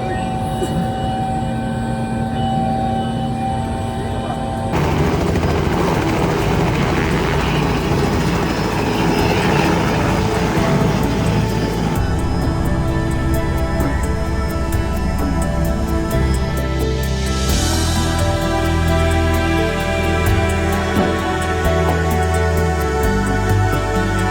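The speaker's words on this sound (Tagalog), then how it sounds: "Helicopter na uwi." A helicopter's engine and rotor run loud and steady throughout, a continuous heavy drone with a shift in tone partway through, as it starts up or lifts off for a trip back from an island.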